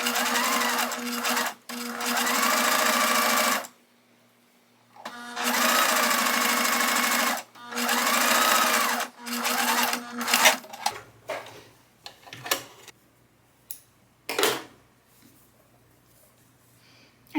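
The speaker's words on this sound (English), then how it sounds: "add the second stitch very close to the first stitch" A sewing machine runs in several steady bursts, stitching a knit T-shirt neck band, with short pauses between runs, then gives way to quieter handling sounds and clicks near the end.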